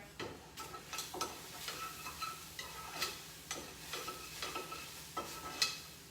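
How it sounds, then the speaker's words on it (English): A spoon stirs a thick dip of softened cream cheese, the base of a smoky pimento cheese dip, in a bowl, making soft repeated scraping strokes at a steady rhythm, close and fairly quiet, with no talking. "Give it a stir."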